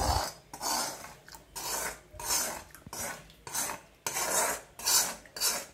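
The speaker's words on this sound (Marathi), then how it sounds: "आता आपली ही तुपाची फोडणी आहे ना, मी ह्याच्यात ओतते।" Ragi ambil being stirred in a pot after a ghee tempering of cumin, curry leaves and asafoetida is added: a steady run of about eleven rhythmic scraping strokes of a spoon against the vessel, close and moderately quiet, with no talking.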